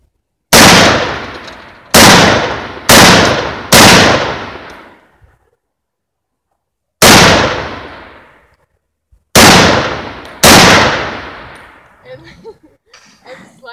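A Saiga 308 rifle fires seven loud, sharp shots outdoors in uneven bursts, each crack trailing a short echo, with silent gaps between groups and faint voices at the end.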